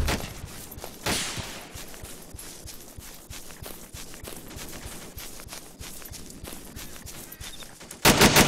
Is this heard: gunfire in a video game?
yes